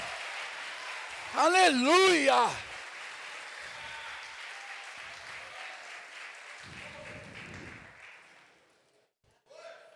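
A church congregation keeps up a continuous patter of applause while a voice rises over it in a brief exclamation. The clapping thins and fades toward the end.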